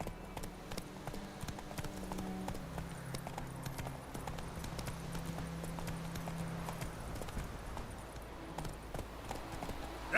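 Horse hooves clip-clopping at a steady gallop in The Witcher 3, rhythmic and continuous over a low game ambience, moderately close.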